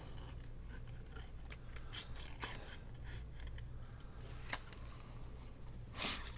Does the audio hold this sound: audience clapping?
no